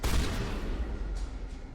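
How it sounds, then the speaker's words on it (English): A shotgun fires in the video game Mass Effect, a loud, booming blast with a sustained roar of combat noise over the short stretch. "My shotgun has helped"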